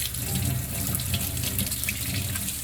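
Tap water runs steadily and loudly into a sink while a ferret is bathed, a continuous close splashing hiss with no talking over it.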